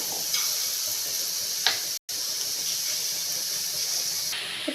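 Egg paniyaram sizzling steadily in hot oil with sautéed onions for kuzhambu, a continuous close hiss with faint ticks and a brief break partway through.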